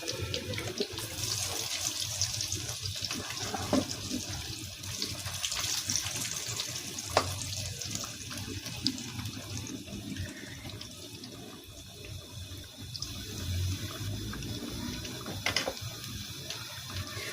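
Aloo tikki, spiced potato patties, frying in hot oil, giving a steady, continuous sizzle and hiss that stays fairly loud and even throughout with no talking.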